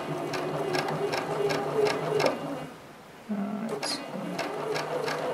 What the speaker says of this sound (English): It's much harder to free motion quilt straight lines than it is curves.